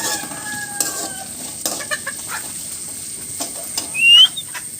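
Chickens are heard close by with scattered soft clucks and a short squawk near the end, over quiet background ambience.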